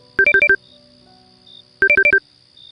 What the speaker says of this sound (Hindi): तभी फोन बजा